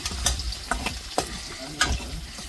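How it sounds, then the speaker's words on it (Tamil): Food sautés in oil in a home kitchen, a soft background sizzle broken by several sharp scraping stirs of a utensil in the pan at irregular intervals. "வதக்கிக்கலாம்."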